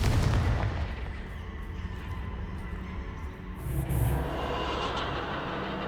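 A Confringo explosive spell cast in the Hogwarts Legacy video game: a heavy, rumbling explosive roar that persists, swelling again with a second boom partway through, loud and with no speech.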